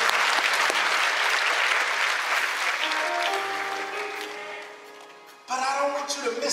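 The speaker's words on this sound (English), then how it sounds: "That's something to clap for" Enthusiastic applause from a large church congregation, loud and dense, fading a little before a fresh burst of clapping near the end.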